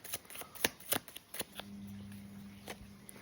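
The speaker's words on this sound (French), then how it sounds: "On va tirer d'autres cartes pour voir tout ça." Tarot cards are shuffled in quick riffling bursts, followed by softer slides as cards are drawn and laid down, close and fairly quiet against a faint background hum.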